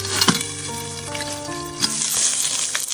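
Corn kernels frying in oil inside a covered pot, sizzling steadily with a few sharp pops and crackles standing out close by, no voices.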